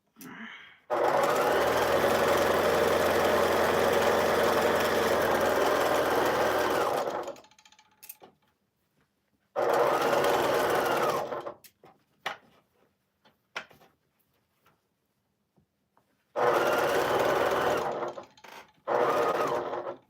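A quilting sewing machine drives a seam through a large quilt in a long, loud, steady run, then stops and restarts in several shorter bursts with clicks and quiet gaps between.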